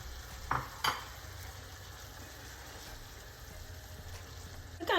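Beans tipped into a sizzling enchilada filling and stirred, giving a soft steady fry with a couple of brief clinks of a utensil against the pan near the start and end.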